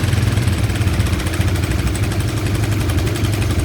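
A Honda Karisma motorcycle engine idles steadily during a carburetor idle adjustment, a close, continuous low rumble with a fine rapid pulse and no throttle blips.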